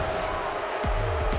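A college football stadium crowd at Kansas roars steadily during a TCU game, a broad sustained rumble of voices with a few louder shouts rising out of it.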